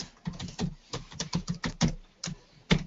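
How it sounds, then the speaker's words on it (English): Rapid keystrokes on a computer keyboard as a password is typed, a dozen or so close, crisp clicks in an uneven rhythm with short pauses. "Just being very careful typing my password in,"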